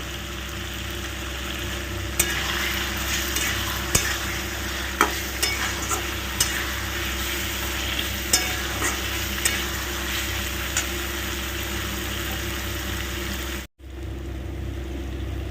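Spices with Kashmiri chili stirred and frying in a pan for an egg omelette curry, a steady sizzle with a scattering of spoon scrapes throughout, close and fairly loud, cut by a brief drop near the end.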